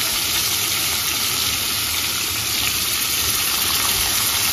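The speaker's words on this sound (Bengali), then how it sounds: "তেলেই আমি ভেজে নিচ্ছি ফুলকপিগুলো।" Cauliflower florets fry in hot oil over a low gas flame, giving a steady, close hiss of sizzling that runs unbroken and evenly loud with no voices.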